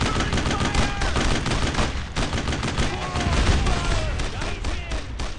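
Heavy suppressing gunfire in the World War II video game Brothers in Arms, a constant loud barrage of overlapping rifle and machine-gun shots with no break.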